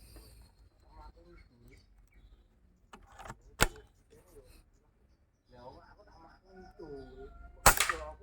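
Two sharp air rifle shots at a paper target, each a single loud, crisp crack with a short metallic tail, heard a few seconds apart, with someone talking quietly between and around them.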